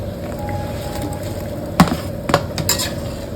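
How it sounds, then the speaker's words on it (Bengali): Gravy simmers softly in a pan before dumplings are dropped in, the low bubbling broken by a couple of sharp metallic clatters and splashes near the end. "ঢেলে দেবো মুঠাগুলো"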